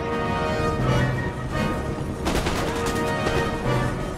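Line infantry fire musket volleys in the Empire Total War video game, a dense crackling fusillade of overlapping shots. The gunfire is loud and continuous, with a sharper burst midway through.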